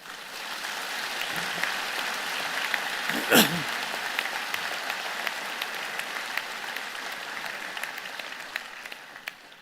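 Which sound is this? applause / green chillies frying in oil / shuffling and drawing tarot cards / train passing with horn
applause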